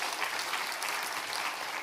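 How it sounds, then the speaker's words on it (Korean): A church congregation applauds steadily during a Sunday service, dense clapping from many hands filling the whole moment without pause. "우리 격려와 축복의 박수 옆에 분에게 해주시고"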